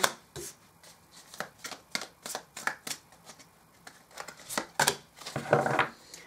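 Tarot cards being shuffled by hand in quick, crisp riffles and flicks, close and fairly quiet, with a denser rustling burst near the end; no talk.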